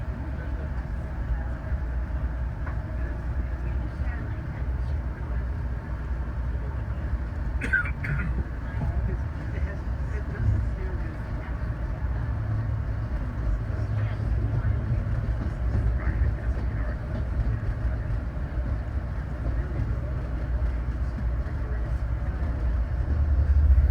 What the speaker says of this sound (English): Thank you for riding Commuter Rail.